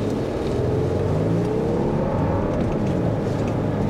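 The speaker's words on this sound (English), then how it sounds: "we can see the off-the-line pickup here" A 2023 Lexus LX600 large luxury SUV pulls away hard from a standstill, its engine note rising steadily and heard loud from inside the cabin with a broad road rumble underneath.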